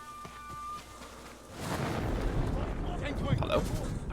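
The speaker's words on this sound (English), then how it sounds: "Oh, this is the smoke bomb." Smoke bomb going off in the video game Ghost of Tsushima: a quiet lead-in, then a sudden burst that swells into a sustained rushing hiss of smoke, with a voice talking.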